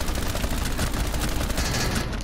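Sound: gunfire in video game Rainbow Six Siege

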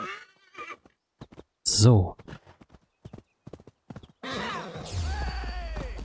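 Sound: horse neighing and hooves clip-clopping in Assassin's Creed Valhalla video game

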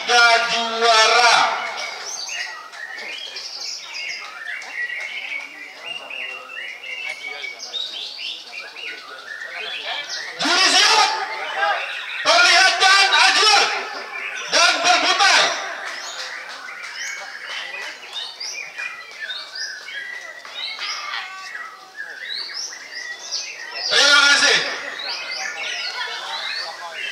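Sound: murai batu (white-rumped shama) songbirds singing at contest

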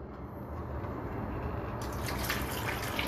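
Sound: water being added to a pot of stew

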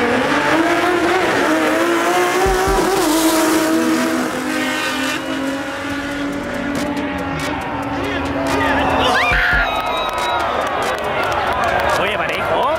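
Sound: Ford Falcon classic car racing at drag strip

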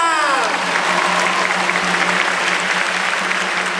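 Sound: audience applause

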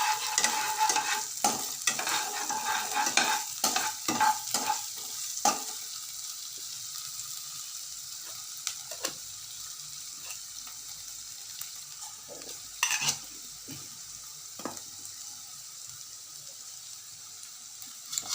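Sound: crushed ginger and garlic frying in a pan, stirred

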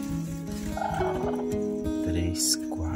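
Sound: hen clucking during egg candling

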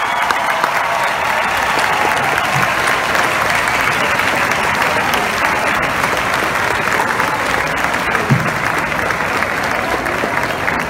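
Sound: crowd applause farewell to Pope Francis

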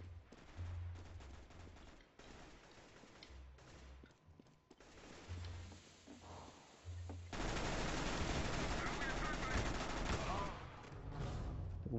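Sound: gunfire from the video game Counter-Strike

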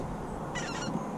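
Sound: geese honking flying overhead

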